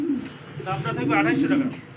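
Pigeons at a pigeon farm give a low, throaty coo that rolls on for a couple of seconds, close and moderate, mixed with a man's speech.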